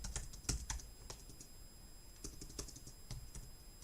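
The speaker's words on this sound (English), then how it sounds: "let me just check the Discord and type in, where is everybody?" Quiet, irregular keystrokes tapped on a computer keyboard while typing a chat message, a few sharp clicks standing out among softer presses, close and alone with no talk.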